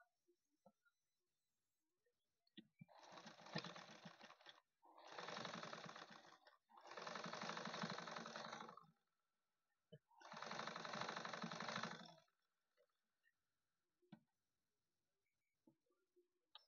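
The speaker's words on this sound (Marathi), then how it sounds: "मी आता शिलाई करून घेत आहे पूर्ण ब्लाउजला" A sewing machine stitches around a blouse in four steady, loud bursts of rapid mechanical whirring, each a few seconds long and separated by short pauses, with faint handling clicks in the gaps and no talk.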